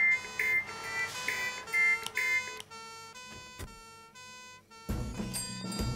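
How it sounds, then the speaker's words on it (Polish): An electronic alarm siren tone played from an MP3 player beeps and warbles in bursts, switching patterns partway through, then a louder, harsher buzzing blare at the end. "Teraz z tego MP3 leci dźwięk syreny alarmowej!"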